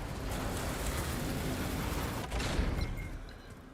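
Steady rain pours from a storm summoned by a Technomancer skill in the video game Outriders, a dense, even hiss that swells briefly near the end before easing off.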